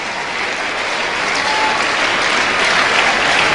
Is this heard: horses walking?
no